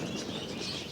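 Parrots chirping and cooing in a pet shop in a busy chorus, steady and fairly close, with a constant wash of background noise.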